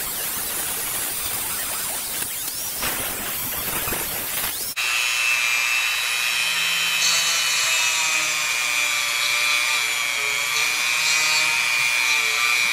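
Dremel rotary tool trimming the grip of a Victorinox Ranger Grip 178 knife: scraping hand work gives way to a loud, sustained high-pitched whine of the spinning tool grinding the handle.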